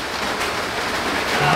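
A rain shower falls as a steady, even hiss of drops that stays level and close throughout the brief moment, with no clear voices over it.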